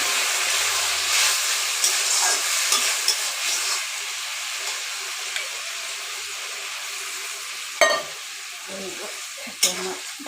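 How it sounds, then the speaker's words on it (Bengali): Dry fish (shutki) with bhindi frying in a pan with lots of spices as water is added, giving a steady loud sizzle with scattered stirring clatters and a couple of sharp hissing bursts. "এটা আমি ইয়া পানি দিম"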